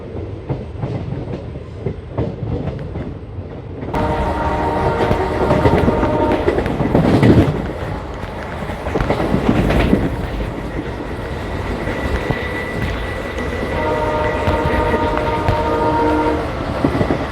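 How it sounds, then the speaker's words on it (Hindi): A long train horn sounds over the loud rumble and clatter of the Shri Ganganagar–Ambala express train pulling away, continuous and close. "बस इसने भी हॉर्न दे दिया अपनी वाली ने"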